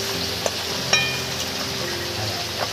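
Pointed gourd (potol) frying in hot oil, giving a steady, close sizzling hiss throughout, with a couple of light clinks from stirring and no talking.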